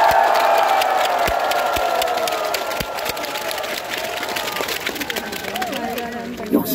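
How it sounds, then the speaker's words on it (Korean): Outdoor concert crowd in a park applauding and cheering after a singer's encore, a broad wash of clapping with shouts and whistles that fades somewhat, while someone talks over it. "우리 김현호 단장님과 그 악단 여러분들께 뜨거운 박수를 보내십시오"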